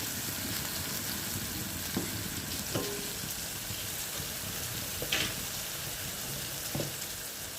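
Mustard seeds and dried chillies crackle and sizzle in hot oil, a continuous close frying hiss with a few sharp pops and stirring clicks scattered through it.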